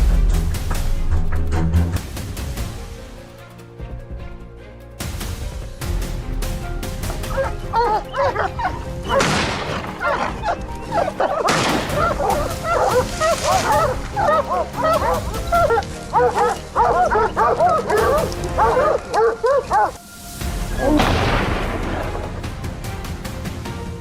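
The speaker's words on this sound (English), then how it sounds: "Hunting dogs were released immediately." Hunting dogs barking and yipping during a wild boar hunt, repeated excited barks with some whimpering, fairly close and loud over outdoor noise.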